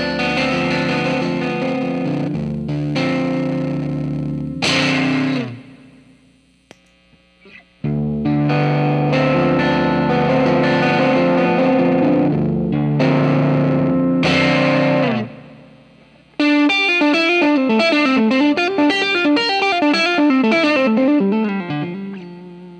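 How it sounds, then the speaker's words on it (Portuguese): Electric guitar played through a vintage-style Silverado preamp pedal from Trefilio Pedais, then with a Green Crystal overdrive switched on, giving chords and a riff that grow gritty and distorted, loud and close with short pauses between passages. "Primeiro vocês ouvem só o Silverado, e logo em seguida eu ligo o overdrive."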